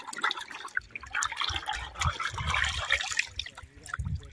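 Water splashes and trickles as rohu fish from Hub Dam are washed, continuous close sloshing and dribbling with people talking over it.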